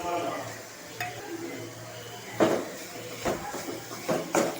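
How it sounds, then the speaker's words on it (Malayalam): Spices stirred into sautéed ginger and green chilli in a pan: a soft sizzle with several scraping stirs of a spoon, sharper strokes clustering toward the end. "ഇഞ്ചിയും പച്ചമുളകൊക്കെ നന്നായിട്ട് വശങ്ങിയിട്ടുണ്ട്. അതിലോട്ട് നമുക്ക് എടുത്ത് വെച്ചിങ്ങനെ പൊടികൾ ഇട്ട് കൊടുക്കാം."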